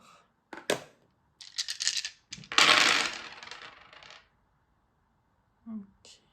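Dice thrown for a divination reading rattle and clatter onto a surface in several short bursts, the longest roll tumbling for about a second and a half before settling, with faint clicks afterward.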